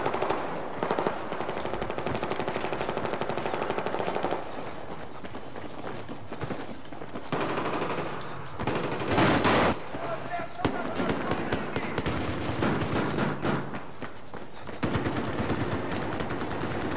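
Rapid automatic machine gun fire in Battlefield 4 bursts almost continuously and loudly, with brief gaps and a sharper cluster of shots midway, while someone talks over the gunfire.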